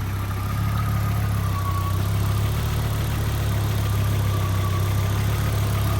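An Audi UrS4 engine idling with its MAF sensor unplugged, a loud, steady, even low hum and drone that continues without change throughout.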